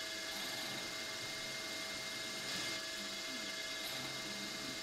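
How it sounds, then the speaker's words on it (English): A steady mechanical whine of a drill running continuously, drilling tap holes in metal with a depth stop, with a faint grinding texture and no pauses. "Drilling the next pair of holes."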